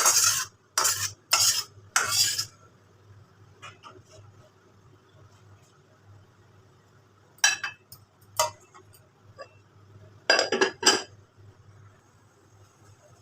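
Taro curry is emptied from a wok in short bursts of loud metal scraping and clinking, separated by quiet pauses with faint background sounds.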